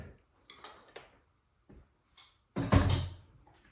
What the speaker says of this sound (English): So we continue mixing it with the spoon until it's really becoming very thick.